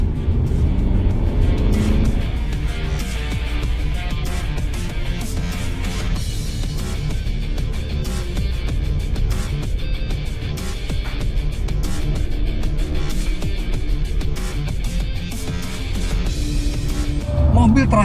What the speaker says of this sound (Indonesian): Sekarang kita akan melakukan manuver yang lebih ekstrim di lane change test dengan kecepatan 80 km per jam